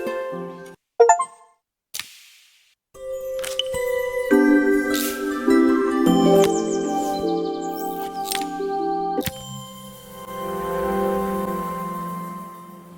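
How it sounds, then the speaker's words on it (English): A doorbell chimes in the Assemble with Care video game, with clear ringing tones that sustain over soft game music, preceded by a few brief clicks and separated from it by short silences. "walked around to the front of the house and rang the doorbell"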